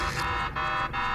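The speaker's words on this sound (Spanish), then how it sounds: "una alarma empezó a sonar" A loud, continuous electronic alarm from the video game Garten of Banban blares with steady tones, briefly dipping twice in a pulsing pattern, sounding synthetic and close.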